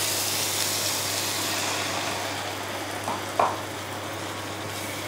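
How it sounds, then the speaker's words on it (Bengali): Okra being stirred through poppy seed gravy in a pan, a steady soft sizzle with faint scraping throughout and one brief clink of the utensil near the middle. "ভালো করে মিশিয়ে নেবো।"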